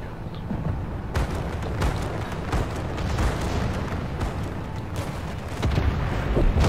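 Warship naval guns booming in a World of Warships battle, repeated deep thuds and blasts layered over a dense rumbling backdrop, loud and continuous with sharp bursts scattered through.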